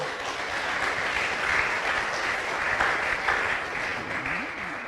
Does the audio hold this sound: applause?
yes